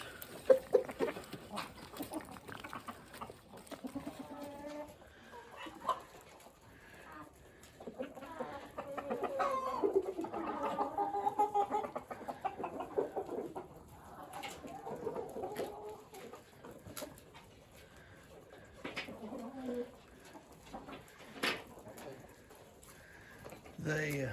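Chickens and other farmyard birds cluck and call continuously at close range, with scattered louder squawks and a goat-like bleat mixed in, while a person talks intermittently over them.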